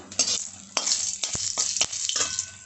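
Dried red chillies are tempered in hot oil in a wok, giving a close sizzle broken by sharp scraping stirs of a spatula in several quick bursts.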